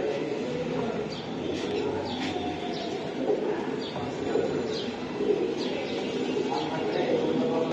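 Pigeons coo and flutter at a pigeon farm, among giribaz racing birds, with soft repeated calls and light chirps over steady crowd murmur as buyers and sellers talk nearby.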